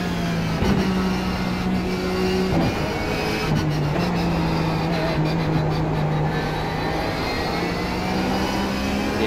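Porsche 911 GT3 race car engine lapping Suzuka in iRacing, a loud, steady in-car drone that drops and climbs with gear changes and braking for corners, continuous and close, with no talking.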